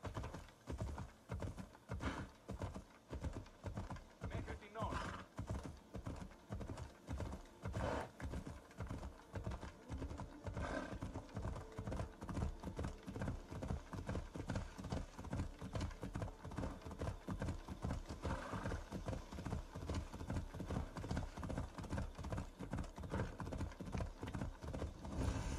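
Hooves of a horse in Assassin's Creed Odyssey clop in a fast, steady galloping rhythm, continuous and even for the whole stretch, with faint game ambience beneath and an occasional soft snort.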